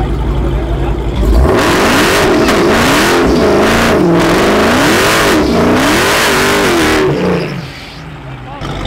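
A Jeep Grand Cherokee Trackhawk and a Dodge Hellcat rev hard at a street race meet, loud, close engine roars rising and falling over several seconds before easing off, with crowd talk underneath.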